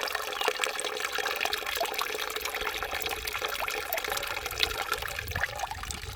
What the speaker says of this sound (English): We'll be able to see the water come flowing up through here.